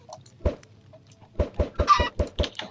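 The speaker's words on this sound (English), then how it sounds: "Oh, I got a chicken." Chicken clucking in Minecraft: a single cluck, a pause, then a quick run of rhythmic clucks and a short squawk, clear and close with no talking.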